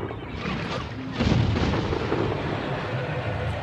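A deep booming blast lands early, followed by a sustained rumbling roar of cannon fire and an explosion in the video game Jaws Unleashed, dense and loud throughout.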